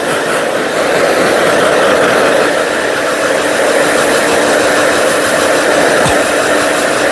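A pet blower dryer drying a dog roars continuously with a loud, steady whooshing hum and no pauses, close to the listener.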